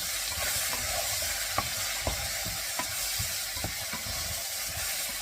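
Mushrooms sautéing in a pan with a steady sizzle and light hiss, broken by scattered taps and scrapes of stirring, close and fairly loud, with no voices.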